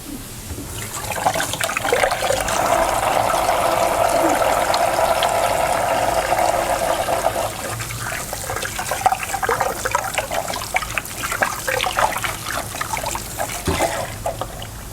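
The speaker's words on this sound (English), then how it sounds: "I'm going to wash my hands real quick." Tap water runs steadily into a kitchen sink while hands are washed beneath it, a close, continuous splashing rush that tapers into lighter trickles and dribbles.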